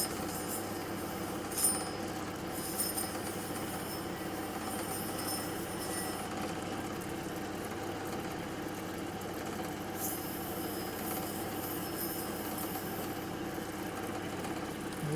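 A lapidary wheel runs steadily while cutting and cleaning up a blue dichroic fused glass cabochon, giving a continuous whirring, grinding hum with faint scrapes throughout.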